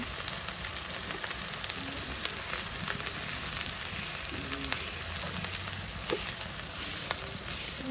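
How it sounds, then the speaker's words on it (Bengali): Chillies and turmeric fry in hot oil, a dense, continuous close sizzle with occasional sharp crackles and pops throughout, no talking. "ভাজা নিলে মশলাটা একটু ভালো হয়।"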